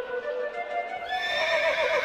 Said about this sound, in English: With his racehorse, Incitatus